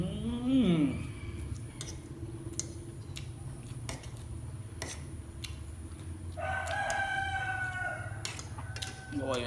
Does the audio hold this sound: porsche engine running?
no